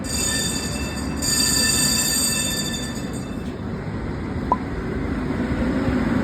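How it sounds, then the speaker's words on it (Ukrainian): A tram rolls past on a street in Prague, its steady rumble and wheel noise filling the scene, with a brief sharp squeal near the end. "Єдине, це трамваї, які можуть вбити людину."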